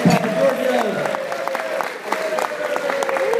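Audience at a CEO national conference clapping in a steady patter of applause for a keynote speaker, with a voice talking over it.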